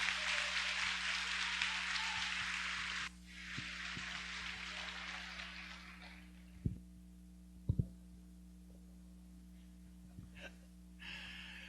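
A church congregation applauds during a Baptist worship service: a loud, dense burst of clapping that drops off sharply, then continues more softly and fades, with a few scattered thumps near the end.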